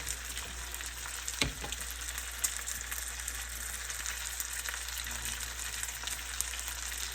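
Onion and garlic sauté in a pan with steady close sizzling and crackling, along with a few clinks and scrapes of stirring, for a home-cooked seafood dish.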